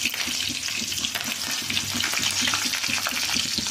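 Green chili and onion sauté in hot oil in a pan, a dense, loud, steady sizzle with faint stirring movement underneath, close and uninterrupted, no talking.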